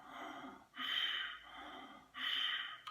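Slow yoga belly breathing: two long, soft breaths drawn in and pushed out through the nose and throat, close to the microphone with brief pauses between them.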